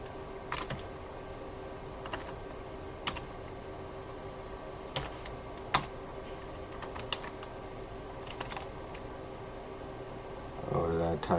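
Scattered keystrokes tap on a computer keyboard at an Ubuntu Server login screen, sparse and fairly quiet over a steady fan hum. A voice talks faintly in the background.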